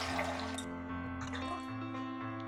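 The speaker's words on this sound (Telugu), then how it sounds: "ఇందులోనండి ఒక హాఫ్ గ్లాసు వాటర్ వేయాలి" Half a glass of water is poured into tomato soup in a pressure cooker at home, producing a close, soft liquid trickle and splash under a steady background hum.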